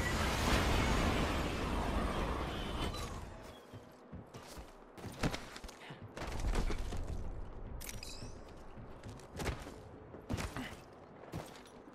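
Gunfire crackles in Apex Legends, with sharp cracks and thuds arriving in irregular bursts after a louder, rumbling opening, then turning sparse and punchy over a quieter background.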